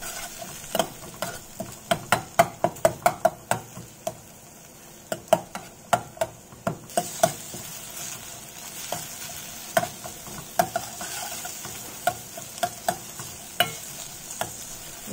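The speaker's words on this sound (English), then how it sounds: "I'm going to put in the noodles here." Noodles are added to a pan and sautéed over very low heat, with a utensil scraping and tapping in uneven strokes over a soft, steady sizzle, close by.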